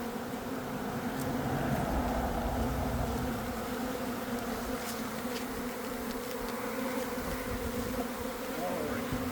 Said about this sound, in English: this is a honeybee. There, on my finger.